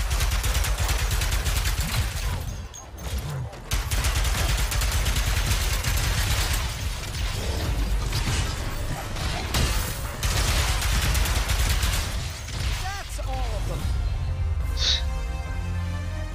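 Weapons firing in the Ratchet & Clank: Rift Apart game, dense continuous bursts of blasts and explosive fire layered over loud game effects, with brief lulls between volleys.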